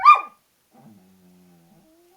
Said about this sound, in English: I don't know if you can hear the dog or not in the background